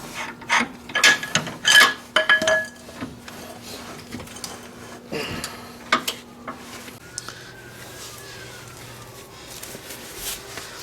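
Ratchet working the front lower control arm bolt on a Honda Civic (1.7 EL) during a front suspension repair, heard as repeated close clicks and clattery bursts that settle into quieter scattered clicks.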